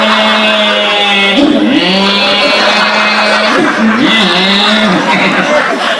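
A man at a religious gathering vocally imitates a car braking and revving, drawn-out rising and falling engine-like tones, loud and close, with audience chatter under it.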